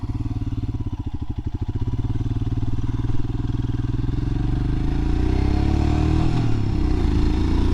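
A Royal Enfield Himalayan adventure motorcycle rides off-road, its single-cylinder engine thumping loudly and steadily, rising as it accelerates, with gravel clatter and scraping mixed in.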